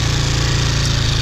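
A Tornado 250cc Chinese quad engine idles with a steady, loud, low rumbling chug throughout, sounding slightly rough, as from a carburetor that needs tuning.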